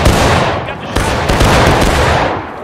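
Musket volleys in a Civil War line-battle video game (Blue and Gray) crackle as a loud, dense, continuous roll of overlapping shots, with a sharper report near the one-second mark.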